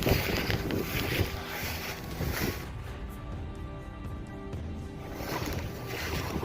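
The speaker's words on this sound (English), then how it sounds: "I don't know if you guys will be able to hear me over this wind" Strong wind roars and buffets the microphone in a steady low rush, with gusts rising and easing throughout.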